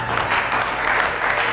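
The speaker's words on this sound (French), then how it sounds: "Ok, on peut applaudir pour elle." A congregation at a community church seminar applauds, a short burst of steady clapping from a crowd lasting just over a second.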